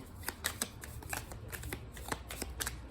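Playing cards being shuffled and drawn for a card reading, a quiet run of quick crisp riffles and flicks, close up with no voices.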